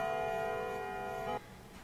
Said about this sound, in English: Where was that clock? That clock's not in here.